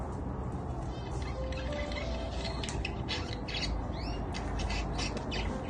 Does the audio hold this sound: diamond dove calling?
yes